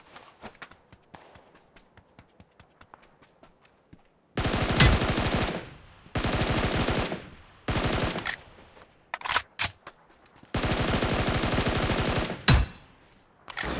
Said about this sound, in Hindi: साइड से गोलियाँ चलने की आवाज़ आती है